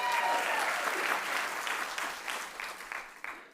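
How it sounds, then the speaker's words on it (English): Keynote audience at a conference breaks into a round of applause, dense clapping from a large crowd that starts strong and gradually thins out, with no talk over it. "Give her a round of applause."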